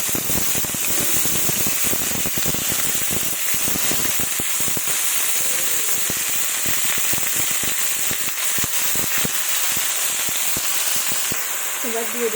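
Bay leaves and slit green chillies crackle and spit loudly in hot oil, a dense close sizzle broken by rapid sharp pops throughout.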